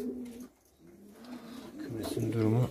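A pair of hünkâr pigeons coos in a coop, the low throaty calls swelling near the end, alongside someone talking nearby.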